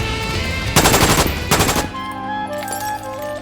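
Gunfire during a Syndicate ambush in the Cowboy Bebop series, with two loud bursts of rapid automatic fire in quick succession, followed by a quieter tonal ringing.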